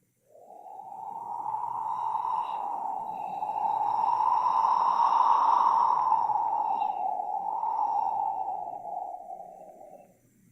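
A cold breeze blowing in off the ocean is imitated as one long, steady, whistling wind effect that swells in the middle and then fades, lasting about ten seconds on its own with no speech.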